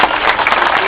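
A protest crowd claps loudly and densely in brief, close applause for Russia.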